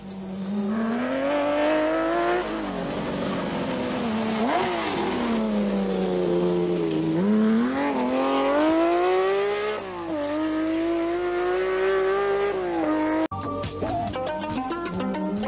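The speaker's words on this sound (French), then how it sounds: "La M1 de Darniche a frappé fort dans le Lot et le Rouergue." A BMW M1 Group B rally car races hard, its engine loud and close, revving up and down through gear changes before the sound cuts abruptly near the end.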